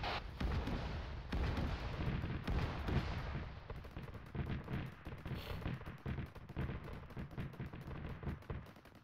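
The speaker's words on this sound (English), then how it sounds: "They exploded a lot of things near me. Like, a lot of grenades were going off." Grenades going off close by in a video game firefight, a dense, continuous barrage of booming blasts and rumbling fire with rapid crackling bursts layered throughout and no break.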